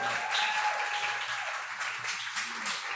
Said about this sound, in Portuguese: Vamos receber com palmas